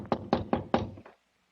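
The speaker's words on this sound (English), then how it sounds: "I walked up the stairs and knocked on the front door" Knocking on a front door as a radio drama sound effect: five firm, evenly spaced knocks close up, the last one softer, followed by silence.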